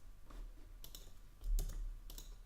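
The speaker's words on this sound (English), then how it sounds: "I can do that by typing I++" Faint typing on a computer keyboard while coding, a few quiet clicky keystrokes in an irregular rhythm, close but soft, with no talking.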